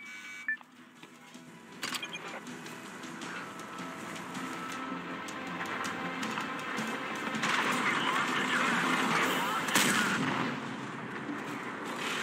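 Tank cannon fire in World of Tanks on the Normandy map: a few heavy, widely spaced shots with sharp cracks early and late, over a constant rumble of engine and battlefield noise.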